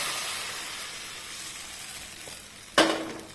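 Coconut neer dosa batter hits a hot pan and sizzles, a broad steady hiss close up that flares into a sudden louder burst of spattering near the end, with no voices.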